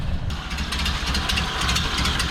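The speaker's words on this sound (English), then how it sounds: "Bump our idle up a little bit. She's purring like a kitten." A 1929 Ford Model A Tudor sedan engine idling after the idle was raised, a steady low rumble with soft regular pulsing, close by and alone.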